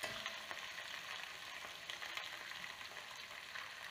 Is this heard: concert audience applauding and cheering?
no